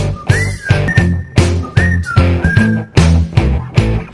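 A bright whistled melody glides and repeats over a steady, upbeat musical backing with a strong rhythmic beat.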